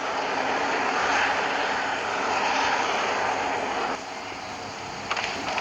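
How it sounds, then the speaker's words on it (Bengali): Jet pack flight in the mobile game Rope Hero: Vice Town, a steady loud engine-like roar with no talk, easing slightly near the end. "আর এখন জেট প্যাক ব্যবহার করি"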